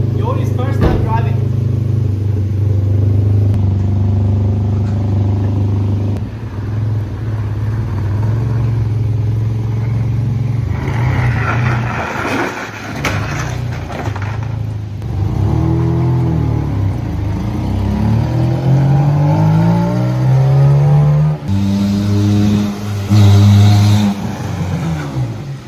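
A car drives with engine whir and rising revs that surge and fall several times, close and fairly loud, as people talk and laugh almost constantly over the motor.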